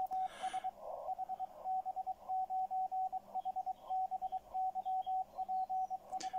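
CW Morse code signal received on a Xiegu G90 HF SDR radio: a steady tone keyed in rapid dots and dashes, clear and rhythmic over faint static hiss, with no talk.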